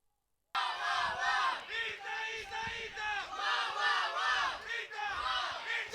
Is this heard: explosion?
no